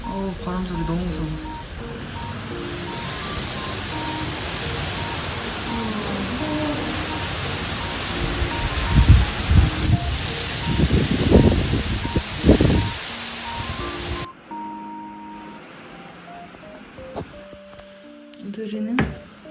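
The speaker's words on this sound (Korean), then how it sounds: "어우 바람 소리 너무 무서워." Strong typhoon wind roars outside in a dense, rushing wash with loud gusting surges, while people talk indoors before the sound drops away.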